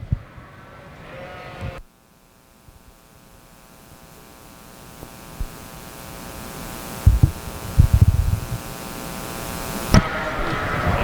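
Yearling ewes bleating in a sheep show ring, with a sustained droning tone over a steady hum and a few soft thumps and knocks.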